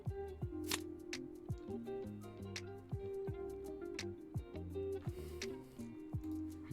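Cards are shuffled during a Flesh and Blood trading card game match: a run of quick, crisp snapping riffles repeats steadily over a continuous tonal music bed.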